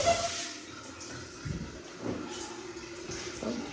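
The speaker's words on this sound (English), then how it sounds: "Get attacked by water." A shower head in a Spokane, Washington lodging sprays water with a steady broad hiss that runs the whole time at moderate level, with faint rumbling and clatter mixed in.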